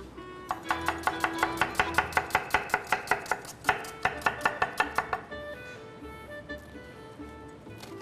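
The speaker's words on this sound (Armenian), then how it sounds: "կտրատենք սոխը," A knife chops an onion coarsely on a board in a home kitchen, about twenty sharp, evenly spaced strokes in quick succession, a short pause, then a few more before fading to quiet.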